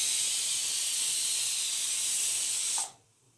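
Pressure cooker releasing steam, a loud, steady high hiss close by that cuts off abruptly near the end, leaving near silence.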